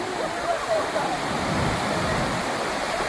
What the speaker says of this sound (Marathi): हा कोयना डॅमचा व्ह्यू आहे. सर्व दरवाजे ओपन केलेत.